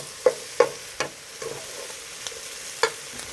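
Meatballs in a pan give a soft, low sizzle, broken by a few distinct scrapes and clacks of stirring as sauce goes in. The sound is close and fairly quiet.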